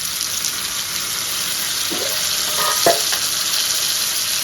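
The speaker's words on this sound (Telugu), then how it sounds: "ఆ మెంతికూరని మిడిల్లోకి తెచ్చుకొని వేయించుకోండి" Fenugreek leaves fry in a pan for a methi, potato and tomato curry, giving a steady, close sizzle with a few soft stirring scrapes partway through.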